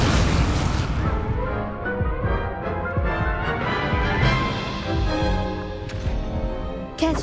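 Fiery spell blasts in the Hogwarts Legacy video game, a dense run of booming bursts and crackling impacts over layered game music and effects, steady and loud throughout with a sharp pop near the end.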